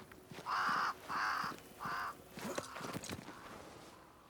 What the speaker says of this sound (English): Crows. They flock to that great tree up there.